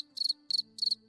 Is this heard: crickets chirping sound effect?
yes